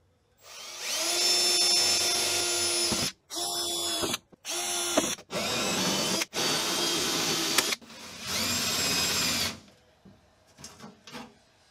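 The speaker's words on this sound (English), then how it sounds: "We're going to go ahead and start drilling." A power drill drills out spot welds on a Datsun, whining steadily in several bursts, stopping and restarting with short gaps, close and loud, then winding down to faint clicks.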